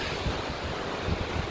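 Ocean waves break on a beach along the Kalalau Trail on Kauai, a steady broadband wash of surf mixed with wind rumble, moderately loud and continuous, with no voices.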